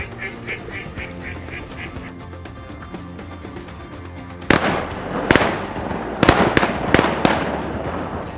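Shotguns fire during a Kansas mallard duck hunt, a burst of loud sharp blasts in quick succession after a stretch of rhythmic duck calling and quacking.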